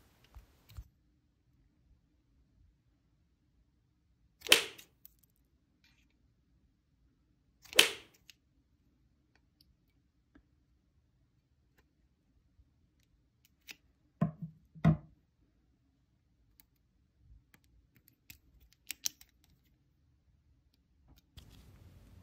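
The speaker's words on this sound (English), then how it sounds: "So now I'll be trimming the excess cord and then just making sure that's all tucked away." Scissors snip the excess cord on a leather-wrapped dagger hilt, a few sharp separate cuts spaced several seconds apart, followed by soft faint handling noises in a quiet room.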